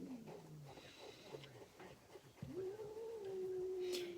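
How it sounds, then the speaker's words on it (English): Cats fight close by, with low growls followed by a long, rising yowling caterwaul that climbs into a sustained wail and ends in a sharp hiss. "And the cats are fighting again."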